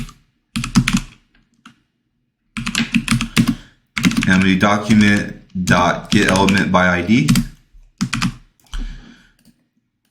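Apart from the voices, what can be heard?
computer keyboard typing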